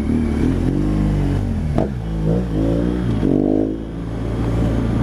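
A motorcycle engine idles with a low, steady rumble and takes a couple of quick throttle blips that rise and fall in pitch, close by and loud, with no talking.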